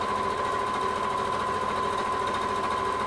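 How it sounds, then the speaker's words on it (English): A sewing machine runs steadily, stitching fabric for a kimono-style wrap top, with a continuous close whir and no break or voices. "I just lift the presser foot and turn and carry on with that stitching"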